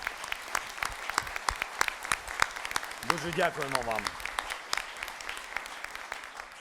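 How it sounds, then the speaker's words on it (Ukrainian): Sustained applause from the audience at an international military medicine congress, honoring military surgeons, steady clapping throughout, with someone speaking over it. "І це точно заслуговує оплесків нашим хірургам."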